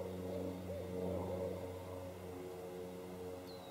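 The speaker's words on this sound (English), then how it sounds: "now I hear a plane." A plane flying overhead in a quiet garden, its steady distant drone faint and continuous, with a few soft bird calls early on.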